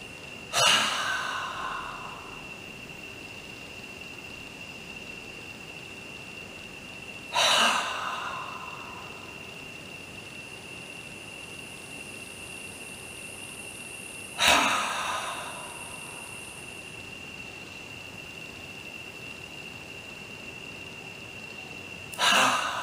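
Deep breathing exercise with four loud, forceful breaths close to the mic, spaced about seven seconds apart and separated by quiet stretches over a faint steady hum.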